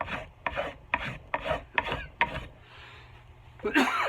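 A rasp or file rubs along the wooden handle of an axe in about six rhythmic strokes, close and scratchy, followed by a short pause and one more rough scrape.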